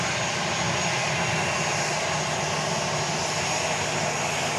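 A Southwest Airlines jet in the Florida One special livery passes at Dallas Love Field at night, a steady, broad engine roar filling the air without a break.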